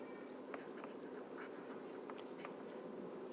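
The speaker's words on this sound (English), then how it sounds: "That's what we are writing." A pen scratches steadily on paper as geometry working is written out, close and fairly quiet, a continuous run of short strokes with no talk over it.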